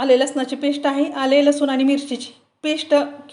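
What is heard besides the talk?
No everyday noise stands out behind the speech.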